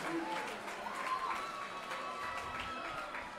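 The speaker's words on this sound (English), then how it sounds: "Crowd's going crazy." Crowd noise at an amateur MMA fight for over-40 fighters, a steady roar of cheering and clapping that fills the space, with shouts rising over it throughout.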